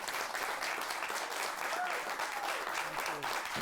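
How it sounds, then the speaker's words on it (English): An audience at a Democratic Party event breaks into sustained applause for party chair Donna Brazile, a dense, even clapping filling the room at close range. "Please welcome the chair of the Democratic Party, Donna Brazile. Please give her a round of applause."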